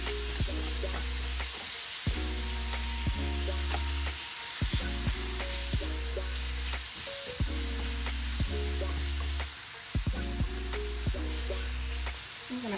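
Apple muffin filling with cinnamon and cornstarch cooking in a pan: a soft, steady sizzle broken by regular spoon scrapes and stirring knocks, close and moderately quiet.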